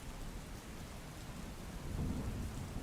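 A steady hiss of light rainfall in Ahmedabad fills the air, even and continuous, with a low rumble swelling underneath toward the end.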